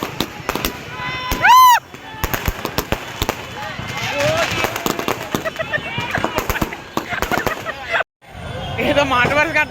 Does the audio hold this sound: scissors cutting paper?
no